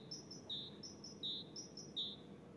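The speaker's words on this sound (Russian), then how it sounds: "Птички поют так интересно." Small birds chirp outdoors beside a quiet pond, short high tweets repeating in loose pairs and singles over a soft, steady background hum, fairly faint and with no voices.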